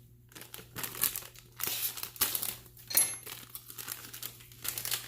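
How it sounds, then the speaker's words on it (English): A fruit punch MRE drink powder pouch from a survival ration is cut open, giving close, intermittent crinkling and tearing of stiff packaging in short bursts, with no talk. "I'm gonna have to cut it."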